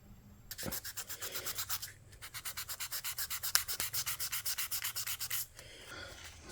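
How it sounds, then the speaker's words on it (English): Wet sanding on the finish of a Chibson Les Paul copy guitar body, a rapid run of rhythmic back-and-forth rubbing strokes, close and fairly quiet, pausing briefly before resuming. "I've been wet sanding it here"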